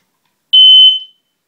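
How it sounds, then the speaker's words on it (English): A single shrill electronic beep from a smoke alarm, loud and close, fading quickly into silence. "Check smoke detectors once a month"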